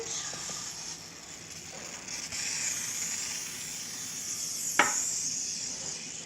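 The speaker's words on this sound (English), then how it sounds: "now we're gonna take our oil and spray it all around" A steady soft spray hiss of cooking oil continues throughout, close by, with a sharp click near the end.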